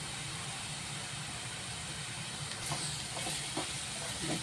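Onion sautés with salt in a pan, giving a steady, even sizzling hiss close up, with a few light scrapes of stirring toward the end.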